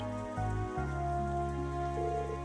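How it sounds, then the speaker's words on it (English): Steady rain falls in a Trails of Cold Steel 3 scene, a soft continuous patter under sustained game music. "It started raining so suddenly."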